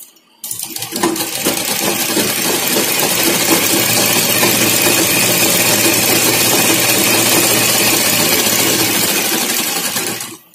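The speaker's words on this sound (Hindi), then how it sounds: "यहाँ पे बिना लाइन के एक सिलाई मैं आपको लगा के दिखाती हूँ, एकदम सीधी सिलाई चलेगी।" A foot-pedal sewing machine runs steadily for about ten seconds, stitching a straight seam in a fast, even mechanical rattle that starts abruptly and stops at the end, loud and close with no talking.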